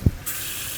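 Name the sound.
pouring water from a bowl into a cast iron pan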